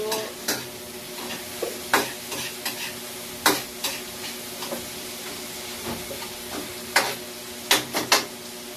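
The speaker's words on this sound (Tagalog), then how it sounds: "Igisa-gisa lang natin yan guys. Hanggang sa maluto." Food stirred and sizzling in a hot pan while sautéing for a monggo mung bean dish, with a steady frying hiss broken by repeated sharp scraping clicks of a utensil against the pan, close and fairly loud, no talk.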